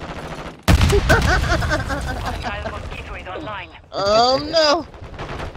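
Gunfire in a combat video game, bursts of shots crackling amid a loud chaotic firefight, with players shouting over it.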